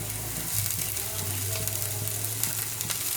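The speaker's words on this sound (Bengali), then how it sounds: "এবার সব কিছু একটু আরেকটু ভেজে নেব এক মিনিট মতো" Chopped onion, garlic and green chili fry in oil in a pan, a steady close sizzle with a constant low hum and occasional light crackles and spatters.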